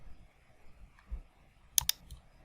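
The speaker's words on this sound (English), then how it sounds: "I will click download." A computer mouse clicks twice in quick succession, crisp and close, in an otherwise quiet room with faint low rustles.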